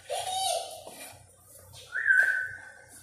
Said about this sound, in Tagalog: May ibon pa ako ang ingay.